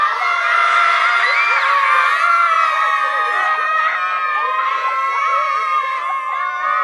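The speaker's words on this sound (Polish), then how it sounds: "wszystkie dzieci głośno krzyczą, aby wyszła do nas wiosna" A crowd of children shouts and cheers loudly together at an outdoor spring festival in Tylicz, a sustained, dense chorus of high voices and whoops lasting throughout.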